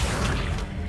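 A short burst of spell-casting from the Accio summoning charm in Hogwarts Legacy, a brief magical whoosh with a dull impact, loud and close, under a second long.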